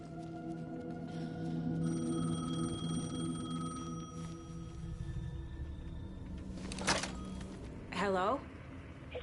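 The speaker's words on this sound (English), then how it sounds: "The payphone was ringing." A payphone rings inside the Alan Wake 2 video game, with steady tonal ringing held over a low game ambience, followed by brief louder rattling bursts near the end.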